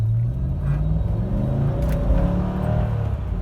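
A car engine roars under heavy acceleration, a loud, steady low rumble with rising whine building across the few seconds, close to the listener.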